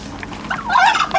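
Loud, close turkeys gobbling in a brief burst of warbling calls.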